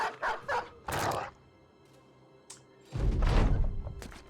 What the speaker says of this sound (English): So let's bring the dog out.